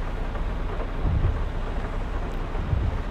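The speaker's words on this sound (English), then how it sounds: "It has been raining the entire time I've been seeding" Rain falls steadily with low thunder rumbling in Farming Simulator 22, heard during seeding on a farm. The noise is dense and continuous, with deeper rolls swelling twice, and there is no talk over it.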